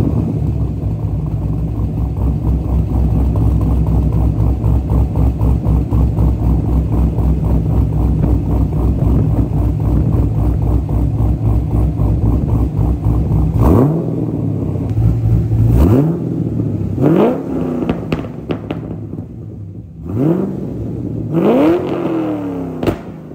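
A drift car engine fitted with an aftermarket cam idles with a loud, choppy, lumpy beat, then snaps through several sharp revs that rise and drop back, close up, with no talking.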